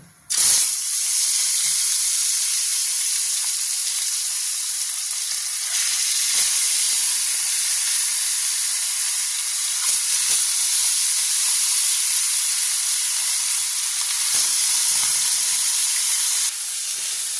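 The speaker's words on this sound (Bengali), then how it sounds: "তেল গরম হয়ে গেছে, এবার আমি মাছগুলো দিয়ে দেবো।" Fish dropped into hot oil sets off a loud, continuous hissing sizzle that swells at the start and holds steady for many seconds, close up, with a few faint knocks and no speech.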